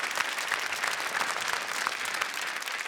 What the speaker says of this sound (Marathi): पुन्हा एकदा जोरदार टाळ्या होऊन जाऊ द्या या टॉप 4 कंटेस्टंटसाठी